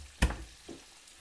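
Onion frying in a pan for a vegan sweet and sour dhansak, a short bright sizzle and clatter burst followed by a fainter second crackle, then quiet frying hiss.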